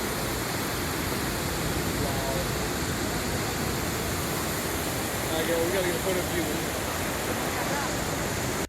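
A huge waterfall in Argentina roars as a constant, dense wash of rushing water, loud and unbroken from start to finish, while people nearby talk excitedly over it.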